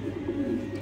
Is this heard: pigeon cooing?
yes